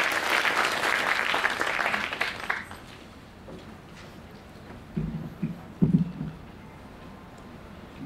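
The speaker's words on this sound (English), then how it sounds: "Students, please give a big round of applause to Mr. Yasir Hussain." An audience of students applauds for a guest speaker at a peace event, a loud burst of clapping that fades after a few seconds, followed by a few scattered knocks and thuds.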